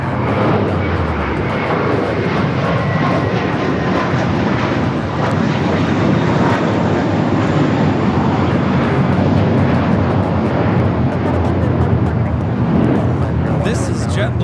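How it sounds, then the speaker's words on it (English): A JetBlue Airbus A321 jet roars down the runway on takeoff from JFK, a loud, sustained broadband engine rumble filling the whole stretch, with people chatting faintly beneath it. "This is JetBlue Flight 524 taking off the JFK."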